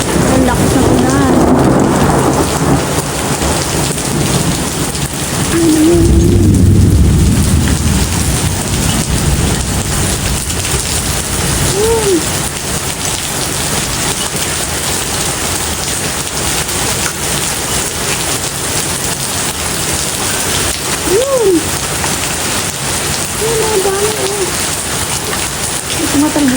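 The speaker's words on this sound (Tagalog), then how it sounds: "Tumatalbog-talbog ng yelo. Maliliit na lang." Small hailstones fall and bounce amid steady heavy rain in a summer storm, a dense continuous patter with brief voices talking over it now and then.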